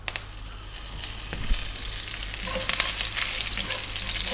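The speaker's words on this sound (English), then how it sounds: "we're going to go in with the curry leaves, which can be very noisy" Curry leaves crackle and sizzle loudly in hot oil in a pan, following black cardamom, a dense continuous spitting hiss with sharp pops that grows busier toward the end, with no voices.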